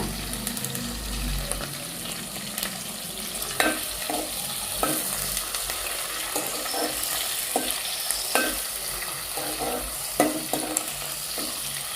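Boiled eggs fry in a pan with a steady sizzle, broken by several sharp clinks and scrapes of a spatula stirring them, close and moderately loud, with no voices.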